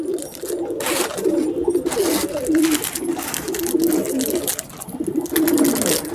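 Pigeons coo steadily and close by in a continuous, overlapping chorus while being fed biscuits, with low rolling calls repeating throughout and no voices.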